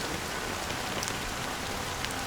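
Steady rain falls in the video game Honkai Star Rail, a soft, even hiss of drops on surfaces that continues without break and stays fairly quiet throughout.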